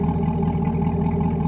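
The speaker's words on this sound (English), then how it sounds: "The pitch is not like your typical V8 with no muffler" A Chevrolet Corvette C8 V8 with a custom exhaust drones steadily up close, a loud, even engine note with a deep rumble and no break.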